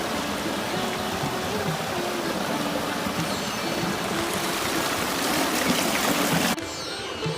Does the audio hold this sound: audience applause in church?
no